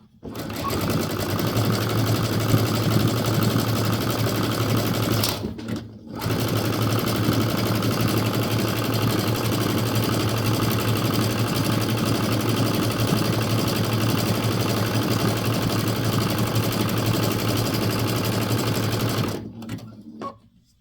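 A sewing machine runs steady zigzag stitching over craft twine for a Christmas bowl, humming and rattling loud and close. It stops briefly twice.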